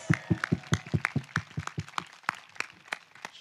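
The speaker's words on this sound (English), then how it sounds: "Give her some applause." At a wedding reception, a small group of guests claps for the bride's mother: sparse, close individual hand claps in a loose, uneven patter that thins out toward the end.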